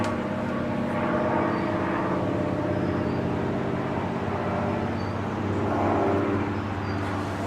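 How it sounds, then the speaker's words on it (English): A fixed-wing airplane passing overhead outdoors, a broad steady roar that swells and fades twice with no talk over it. "There's an airplane."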